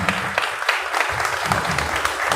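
An audience at a book launch applauds, a close, lively burst of many hands clapping with uneven rhythm and a few sharper claps standing out.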